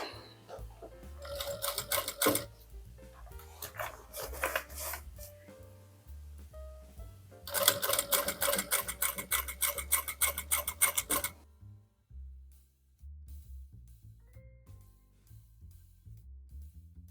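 A sewing machine stitches a car organizer bag in slow, steady runs, loud and close, with short pauses between bursts and a quieter stretch of handling noise near the end.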